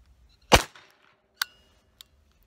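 Sundance Point Blank .22 LR pistol firing CCI Standard Velocity ammunition: one loud sharp shot, then two fainter short clicks or pops, with no talking.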